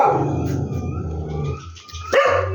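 A dog barks and howls close by, drawn-out yowling cries followed by a sharp bark near the end, with a puppy nearby and no talking.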